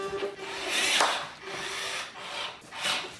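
Rechargeable drill with a hex bolt attachment tightening bolts on a stool, heard as repeated bursts of whirring and grinding friction separated by short pauses.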